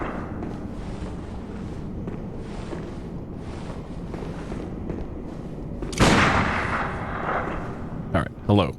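Gunfire in Bloodborne: a loud, close burst cracks out partway through, with two more quick shots near the end, all over steady windy ambience from the game and someone talking.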